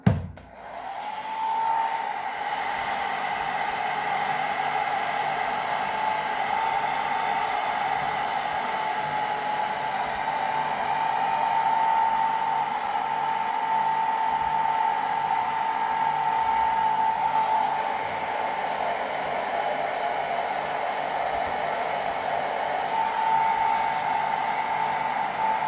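A handheld blow dryer drying hair at home roars in a steady, loud whine for the whole stretch, its pitch dipping briefly near the end as the airflow shifts, with no voices over it.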